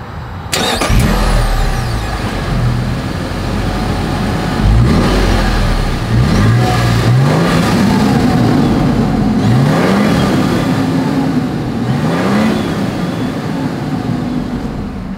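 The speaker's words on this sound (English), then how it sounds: "As always, here is that exhaust clip." A 2024 Toyota Sequoia SUV engine starts up close and loud, then the exhaust is blipped in a series of sharp revs, each one rising and falling back to a rumbling idle.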